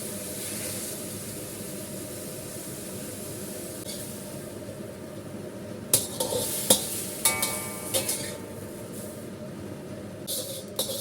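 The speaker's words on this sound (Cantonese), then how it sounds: "繼續兜下啲馬蹄，落少少雞湯落去" Steady sizzle of water chestnuts in a wok with a little chicken stock added, joined midway by a series of spatula clanks and scrapes against the metal, close by with no talking.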